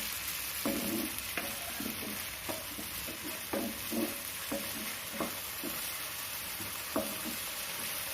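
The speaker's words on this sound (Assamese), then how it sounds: "পিঁয়াজখিনি আমাৰ প্ৰায় ভজা হৈছে।" Chopped onions and small cubes of paneer fry and sizzle in a pan over a high gas flame, with repeated stirring scrapes in a loose rhythm over a continuous hiss, close and moderately loud, no voices.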